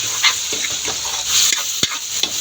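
Ground meat dropped into a pan with frying mung beans, a soft sizzle under scattered stirring scrapes and one sharp clack of a utensil, close and brief.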